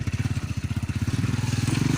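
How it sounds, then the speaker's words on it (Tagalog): Motorcycle engine revving while riding over a badly damaged, rough road, a loud, close, rapid pulsing chug with evenly spaced beats that quicken slightly toward the end, with no talk over it. "Magkarangkada ang aking motor."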